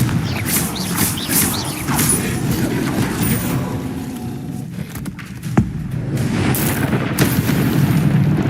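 A Confringo spell explosion in Hogwarts Legacy booms loudly with rumbling, crackling debris, followed by a sharp impact crack and lingering low rumble.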